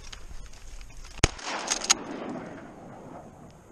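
A single sharp gunshot, fitting a shotgun fired while duck hunting in Alberta, cracks loudly outdoors, followed by a decaying boom and a few fainter pops against wind and background noise.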